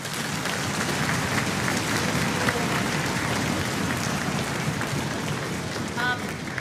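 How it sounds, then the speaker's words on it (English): Audience at a school orchestra concert clapping for eighth-grade performers, a steady, dense wash of applause holding at an even level from start to finish. "So give my 8th graders a big round of applause."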